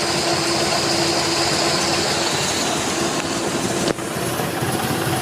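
A Triumph TR4 engine fed by SU HS6 carburettors runs at a steady idle, a loud, continuous broadband drone with a faint high whine and a brief dip near the end.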